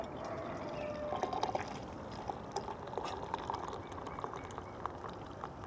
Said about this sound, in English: pour a little in there, and that temperature change will cause the coffee grounds to sink to the bottom of the pan